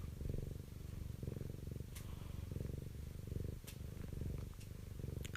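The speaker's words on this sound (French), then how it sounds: "La ronron thérapie." A domestic cat purrs steadily and close up, a continuous low rhythmic rumble that rises and falls with each breath, heard alone without other sounds.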